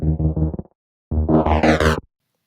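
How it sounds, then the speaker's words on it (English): A simple synthesized wrist bass, filtered and layered with flanger in a neurofunk breakdown, plays as two close, loud, gritty bursts with a buzzing, rhythmic wobble, the second rising brighter before cutting off, with no voices. "These tiny sounds are"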